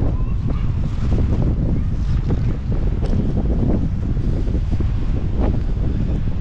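Steady, strong storm wind roars against the microphone throughout during flooding in Altena, Germany, a dense broadband rush with gusty bursts and low buffeting rumble.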